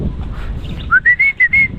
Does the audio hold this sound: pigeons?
yes